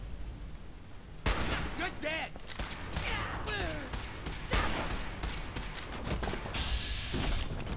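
Gunfire in the Fallout 4 video game, repeated sharp shots and bursts with whooshing effects in a busy combat mix, with people talking over the action.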